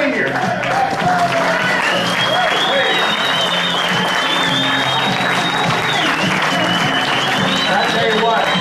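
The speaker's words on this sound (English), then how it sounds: "Give him a round of applause." A crowd applauds Tom Mower Sr. from St. Louis as people stand, continuous loud clapping throughout with cheers and indistinct voices mixed in.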